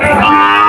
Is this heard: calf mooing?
yes